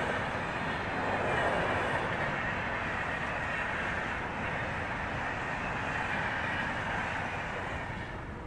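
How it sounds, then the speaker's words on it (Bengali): A train rolls past near Ghatshila, heading toward Tatanagar, with a steady, even rumble and faint rail clatter, sustained throughout, with no voices. "ট্রেনটা যাচ্ছে দেখো"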